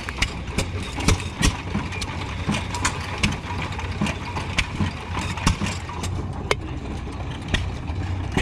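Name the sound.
Cummins engine idling at antique machinery show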